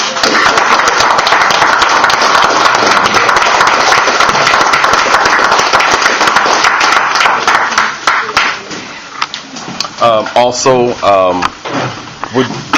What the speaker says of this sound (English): Can we give a round of applause to Dr. Kaba?